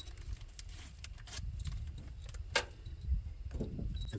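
Metal bolts clink and jangle in hand while a carburetor spacer gasket is fitted to a fuel-injected LS swap engine: scattered small metallic clicks close by, one sharper clack midway, no talking.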